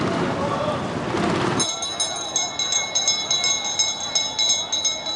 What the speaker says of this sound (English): Once the auction bell rings,